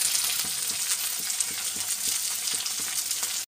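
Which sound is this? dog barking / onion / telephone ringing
onion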